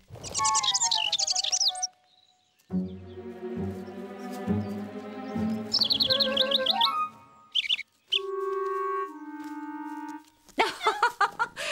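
Small cartoon birds chirp and tweet in quick bright bursts, mixed with whistling tones and playful musical notes, with short pauses between the phrases.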